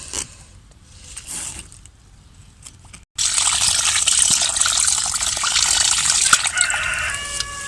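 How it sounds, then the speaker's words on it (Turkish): Freshly picked, unsprayed garden cucumbers are washed outdoors. After a few quiet seconds of faint background sound, running water suddenly bursts in and splashes loudly and steadily to the end. "Suyumuzla yıkayalım."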